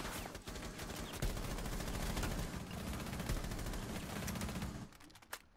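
Shotgun fire in the tactical shooter game Rainbow Six Siege: dense, loud blasts and booming gunfire fill the scene continuously, then cut off near the end with a last sharp report.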